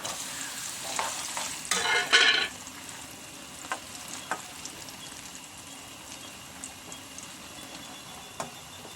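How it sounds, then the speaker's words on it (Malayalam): Cashews and raisins frying in hot ghee for a broken wheat payasam, a brief louder crackling burst early on that settles into a quiet, steady sizzle dotted with faint ticks and taps; no one speaks. "നെയ്യ് നന്നായി ചൂടായിട്ടുണ്ട് അണ്ടിപ്പരിപ്പിടാം അതിലേക്ക് മുന്തിരി ഇട്ട് കൊടുക്കാം"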